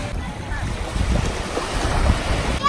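Surf washes onto a small beach in Martinique, a steady low rumble of waves mixed with wind buffeting the microphone, with no clear talk over it.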